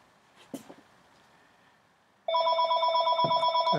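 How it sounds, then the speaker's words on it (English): Telephone ringing loudly and close, a sudden steady electronic trill that starts partway through after a few faint handling sounds. "there goes the phone again"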